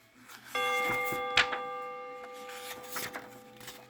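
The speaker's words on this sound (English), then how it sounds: "Remember, when you hear the chime, turn the page." A single bright page-turn chime from a 1979 book on tape rings out clearly and sustains, with a sharp tap partway through and faint background rustling.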